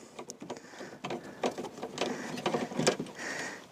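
A Phillips screwdriver turns a tight headlight screw out on a Fiat Ducato, Citroën Relay or Peugeot Boxer van, a faint series of squeaky ticks and scrapes close by.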